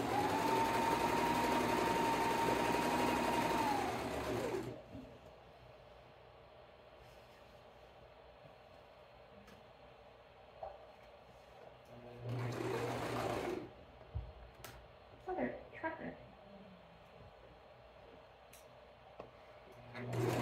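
A sewing machine runs steadily for several seconds while stitching aprons made from bed sheets, then stops, with a second shorter burst of sewing later and light handling noises between.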